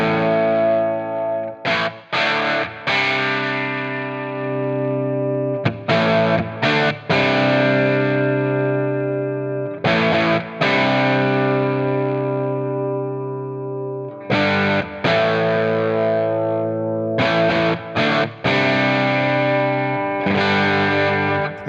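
Electric guitar played through a Quad Cortex with a low shelf EQ boost, heavily distorted chords strummed in repeated loud bursts with short gaps between phrases, alone without talk.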